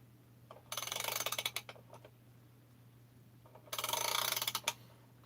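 Ratchet wrench tightening the crankcase of a Stihl 660 chainsaw during assembly, two bursts of fast clicking pawl ratcheting close up over a low steady hum, with a quiet pause between them.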